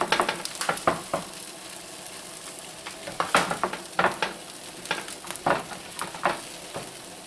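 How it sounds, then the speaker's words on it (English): Slices of scrapple frying in a pan, Pennsylvania-style, give a steady crackling sizzle broken by sharp spatters and pops, with no talk over it. "I'm going to slice the rest of this up so it's ready to go in the pan and fry off."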